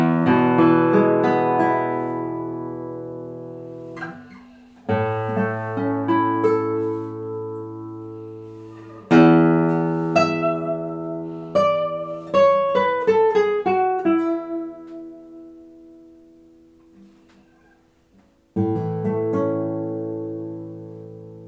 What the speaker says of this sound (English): this guitar did a wonderful job replicating the response, the sound, and a lot of the traits of an authentic Robert Bouchet